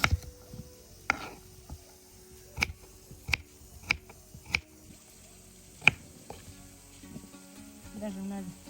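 A knife coarsely chopping onion for kuyrdak, a lamb-rib and potato stew: a handful of sharp, separate chops at uneven intervals, fairly close, with a low hum and faint kitchen noise between them.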